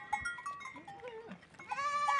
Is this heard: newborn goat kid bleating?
yes